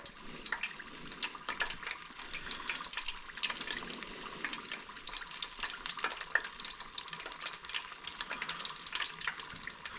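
A fresh snapper fillet frying in a pan, a dense, even sizzle that holds steady and fairly close throughout, with faint crackles scattered through it and no one speaking.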